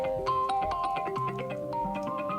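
An iOS 26 ringtone plays alone, a bright, bouncy melody of plucked tones with a soft bass pulse and steady rhythm, clear and close.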